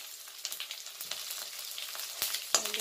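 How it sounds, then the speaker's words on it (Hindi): Chilli and garlic frying in hot oil for a yam (aol) chutney, a steady close sizzle with scattered crackles and a couple of sharper pops near the end, with no talk. "देखिए मिर्ची और लहसुन को जो है ना भूरा होने तक पकाना"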